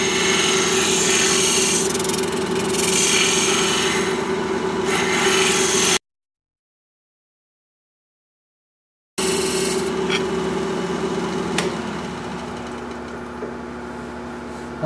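Continuous rough scraping against a turned wooden salt cellar, loud and close, broken by a few seconds of silence before the rasping strokes resume.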